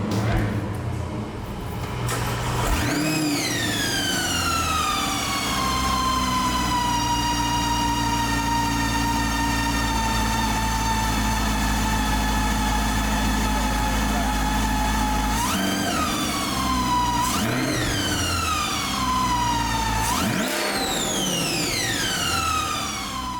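Supercharged C8 Corvette Stingray with a ProCharger and straight-cut gears run on a dyno: a loud, steady engine roar with a high whine that climbs in pitch through repeated sweeps across the pull, dropping sharply between shifts.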